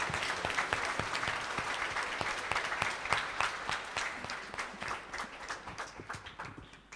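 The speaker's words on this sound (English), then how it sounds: "we all put our hands together and we applaud for" A church congregation claps together at an Easter Vigil Mass, a steady mass of quick overlapping handclaps that carries on for several seconds and gradually thins toward the end.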